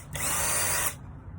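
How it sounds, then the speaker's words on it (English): A power drill drives a screw down into the frame of a plaster mold being set up for ceramic art tiles, one steady whir lasting most of a second before stopping cleanly, close and loud. "I'm going to screw this down really quick"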